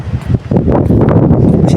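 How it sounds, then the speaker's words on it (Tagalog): Strong wind gusting and buffeting against a microphone outdoors, a loud, continuous rumbling roar with rustling surges throughout. "Pasensya na po kayo sa maingay na background kasi malakas po yung hangin dito."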